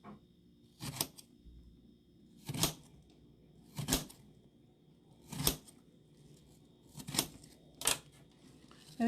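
Apples cut up on a board for an apple cider raisin breakfast casserole, six separate crisp knife chops spaced a second or two apart, close and fairly quiet.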